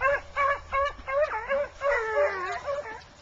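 A dog whimpers and whines close by in a series of high, wavering cries with short pauses between them.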